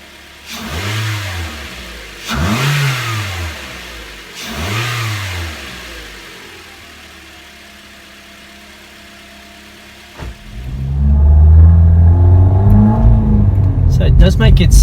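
A 2014-2016 Toyota Corolla engine with a modified air intake revs up three times in rising-and-falling swells, drops back to a quiet idle, then runs louder and steadier as someone talks nearby.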